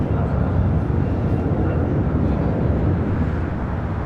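JetBlue Airways airliner in mint livery taking off from LAX bound for JFK: a loud, continuous low jet roar with heavy rumble and wind buffeting, unbroken for the whole stretch.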